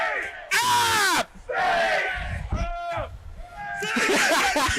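App State student crowd at a game chanting and cheering in loud bursts, with voices shouting close by and laughter mixed in.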